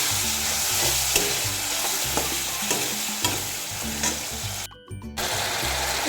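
Browned onions and masala paste frying in a pan for a jackfruit curry, a loud continuous sizzle broken by rhythmic scraping stirs of a spatula, with one brief drop-out near the end.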